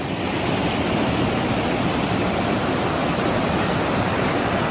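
A small mountain river on a trail in the Cordillera Huayhuash rushes in a loud, continuous broadband wash of flowing water, close and steady with no pauses.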